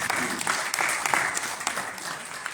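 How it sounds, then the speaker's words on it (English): An audience at a Bronx summit on gun violence at Lincoln Hospital, New York, applauds for the hospital staff, a steady patter of clapping filling the room with sharper individual claps standing out. "So can you give the Lincoln Hospital staff a round of applause?"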